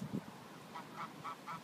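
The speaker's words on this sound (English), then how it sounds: "Geese!" Geese in rural Victoria honking faintly in the distance, a run of four or five short calls in a steady rhythm.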